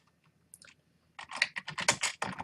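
Typing on a computer keyboard while building a PowerPoint text box, a short tap early on followed by a dense, close burst of quick clicking keystrokes.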